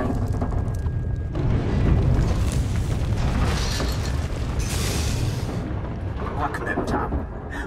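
Deep, continuous groundquake rumble on the planet Makeb in Star Wars: The Old Republic, with heavy booming low-end surges and crackling debris noise sustained throughout and easing near the end.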